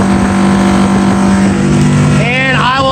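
A 2003 Scout 235 Sportfish center console motorboat runs at speed around 5,700 RPM, a steady loud engine drone with wind and water noise throughout, and a brief rising whine near the end.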